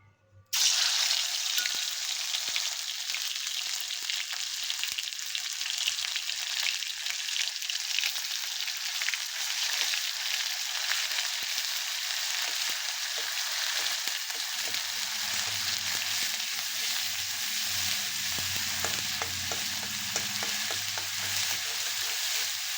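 Onion, garlic and coconut masala hisses and sizzles in oil in a kadhai, a steady bright frying crackle running throughout, with faint stirring scrapes toward the end.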